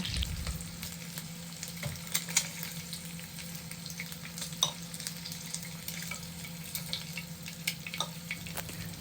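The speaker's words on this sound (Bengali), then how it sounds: "তেল গরম হয়ে গেলে এর মধ্যে দিয়ে দেব সেদ্ধ ডিম ডিমগুলো এপিট ওপিট ভালো করে ভেজে নেব" Boiled eggs fry in hot oil in a pan for an egg korma, giving a steady, soft sizzle with scattered crackles and pops.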